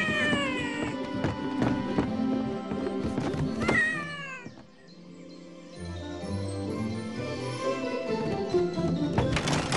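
Cartoon kittens meow over a busy animated soundtrack. High, wavering mews repeat in quick succession with music and effects behind them, then there is a brief lull before the mix picks up again.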